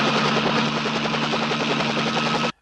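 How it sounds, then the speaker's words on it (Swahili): A helicopter flies in a Swahili-dubbed action movie, its loud, steady rotor thump and turbine whine filling the scene throughout before ending abruptly. "wanaume wa shoka wanaondoka na helikopta namna hii"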